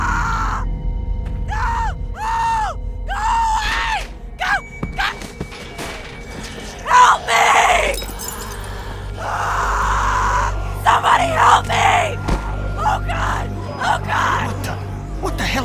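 Rising and falling screams from a woman in a zombie video game, mixed with gasps, gunfire-like bangs and crashes, with game characters talking in between.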